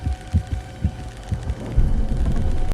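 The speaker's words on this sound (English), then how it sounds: "Bancroft tries to slow down her heartbeat to show Milo she's not lying" A steady, muffled heartbeat effect from a tense interrogation scene in the film Morbius, thumping in a slow regular rhythm over a low hum, with no talking.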